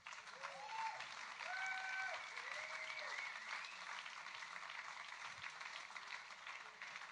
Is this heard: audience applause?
yes